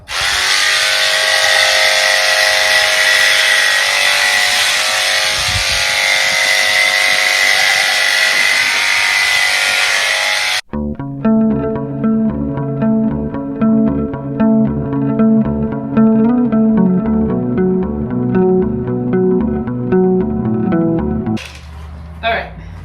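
Electric clippers buzz steadily and loudly on a senior dairy goat being clipped for show, first a high, even whine, then a lower, pulsing tone with the motor's drone varying as it works through the hair.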